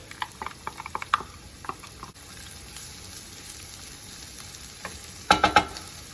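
Chopped onions and celery frying in oil in a skillet, with a continuous close sizzle, light spatula taps and stirring at the start, and a brief cluster of louder scrapes near the end.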